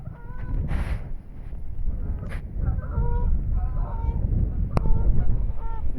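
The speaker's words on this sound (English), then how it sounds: "The geese right there." Geese honk in scattered calls over gusty wind during heavy snow showers, the birds fairly close and clear against the rushing background.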